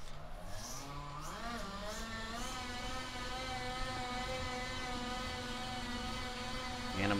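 A Trek 920 bicycle pedaled on an indoor trainer spins up into a steady, rising mechanical whir with a humming drone, heard close and fairly quiet.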